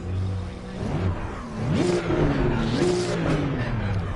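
A GT2 race car engine revs and climbs through gears in Assetto Corsa Competizione, the pitch rising and falling in repeated sweeps, loud and close with a steady mechanical drone and brief tire noise.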